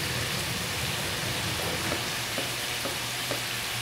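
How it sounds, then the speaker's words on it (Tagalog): Tomatoes sautéing in a pan for a sponge gourd and shrimp dish produce a steady hissing sizzle with a few soft stirring taps. "So, igisa natin mabuti ang kamatis"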